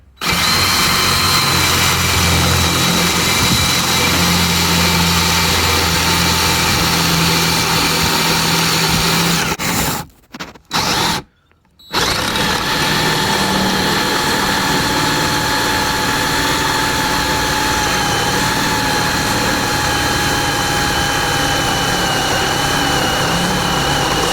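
A hand drill runs continuously at high speed, grinding into metal lubricated with cutting oil close by, briefly stopping twice before resuming its steady whine.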